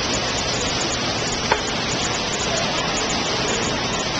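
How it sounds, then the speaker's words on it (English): Indoor waterfall in a shopping mall food court, a steady rushing wash of falling water that fills the space continuously and evenly, with a faint click partway through. "There's a beautiful waterfall"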